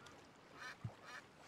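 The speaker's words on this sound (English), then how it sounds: "You are ducks. You're not pelicans." Ducks give a couple of soft, short quacks in Genshin Impact, faint against low game ambience, with a dull thump between the calls.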